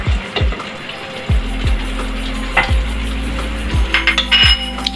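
Green chillies are stirred into mixed vegetables and fenugreek frying in a pan, a steady sizzle broken by repeated loud scrapes and clinks of a spoon against the metal, close and with no talking.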